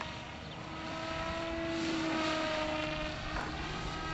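A Hawkeye RC camera plane at full throttle, its small propeller engine holding a steady droning whine that swells slightly in the middle and sounds fairly close, with no voices over it.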